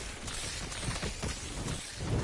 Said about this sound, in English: How can you not appreciate the sound of thunder?